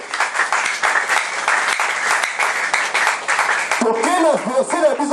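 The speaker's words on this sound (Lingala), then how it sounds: "Acclame plus fort pour la gloire du Seigneur" Church congregation clapping loudly for nearly four seconds, a thick sustained burst of applause, then a voice speaks over the fading claps near the end.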